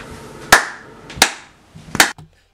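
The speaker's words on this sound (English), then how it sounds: "as you can see, I clapped three times" Three sharp hand claps spaced roughly evenly, close and loud, each a crisp single crack in an otherwise quiet room, made as an audio sync marker.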